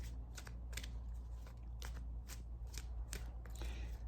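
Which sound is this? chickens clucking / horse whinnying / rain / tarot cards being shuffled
tarot cards being shuffled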